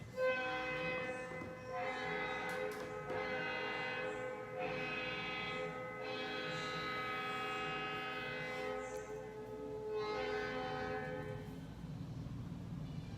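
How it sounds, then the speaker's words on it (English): A long, mournful Louisville and Nashville (L&N) train whistle sounds in sustained harmonic blasts over the steady rumble of a passing train, fairly distant. "And you can hear the lonesome whistle."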